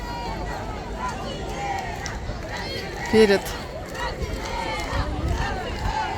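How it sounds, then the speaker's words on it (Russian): Party crowd cheering at night near the Colosseum, a dense distant roar of many voices with shouts rising and falling, a close voice speaking briefly over it. "Вот такая вот толпа"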